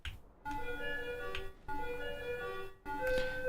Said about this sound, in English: Guys, if you hear a melody, it's the ice cream truck.